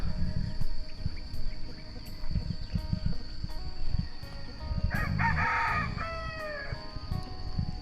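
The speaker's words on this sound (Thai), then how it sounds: "เสียงไก่ขัน" A rooster crows in a Lao forest village in the morning, one clear drawn-out call rising and falling, moderately near, over low rumbling background noise and faint insect buzz.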